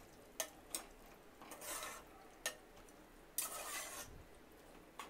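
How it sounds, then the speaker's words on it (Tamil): A biryani mixture is stirred inside a cooker, giving soft scraping strokes and a few sharp clinks of the spoon against the metal pot over a faint background sizzle, with no talking. "இப்போ நல்லா கிளறி விட்டுக்கலாம்."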